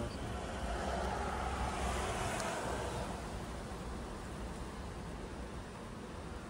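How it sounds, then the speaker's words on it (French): Steady rain with rising wind forms a continuous broadband hiss, loudest early and easing slightly toward the end, with no voices. "Il pleut bien, le vent se lève."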